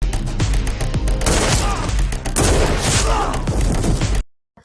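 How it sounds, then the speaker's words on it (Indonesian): Gunfire in an Indian action film, with police guards shooting at gangsters trying to break into a house: dense, loud bursts of shots and impacts layered over a booming score, running almost continuously before cutting to silence. "Polisi penjaga rumahnya juga menembak gangster yang berusaha masuk ke rumah Partiban."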